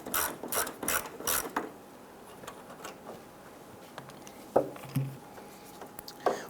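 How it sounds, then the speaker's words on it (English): A ratchet turning a 7mm screw on the grille of a 1995-2001 Ford Explorer, a fast burst of clicking pawl strokes, then quieter scattered clicks and metallic taps, close up. "Remove this screw right here. It's your 7mm."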